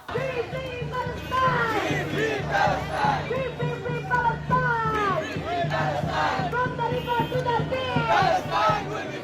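A student protest march in Dhaka heading toward the US embassy in solidarity with Palestinians, a large crowd chanting slogans in loud rhythmic call-and-response, voices rising and falling together in a dense outdoor mass.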